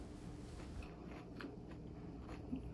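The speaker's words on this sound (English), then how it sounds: "Listen to that crunch." A bite into a fried Jamaican festival dumpling gives a few faint, close crisp crunches and chewing crackles over a quiet background.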